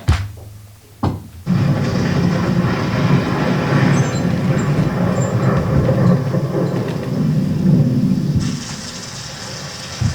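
Heavy rain pours steadily with a deep rumble of thunder underneath, loud and continuous after a brief quieter start, with no voices.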